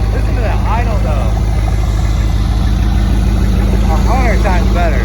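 A 1991 Pontiac Trans Am GTA V8 idles steadily and loudly throughout, a low rumbling burble under intermittent voices talking.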